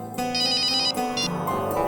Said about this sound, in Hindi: लगता है किसी आशिक का फोन आया है